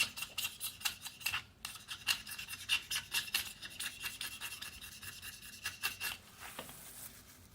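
Utility knife blade scraping an aluminum vape pen casing, a rapid series of close, rasping strokes in an uneven rhythm that carries on steadily with no talk.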